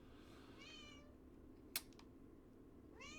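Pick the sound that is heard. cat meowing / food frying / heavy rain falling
cat meowing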